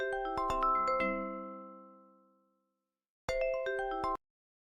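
A phone plays a melodic electronic ringtone of bright tones that rings out and fades, then after a short pause starts again and cuts off abruptly.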